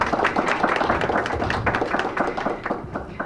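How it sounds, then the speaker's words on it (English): Audience applause in a hall, a dense burst of many hands clapping together, steady and moderately loud throughout, without voices. "they deserve an applause too"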